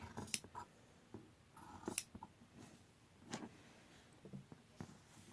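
Scissors snipping through sleeve lining fabric, a few short, quiet crisp cuts spaced apart in a calm room.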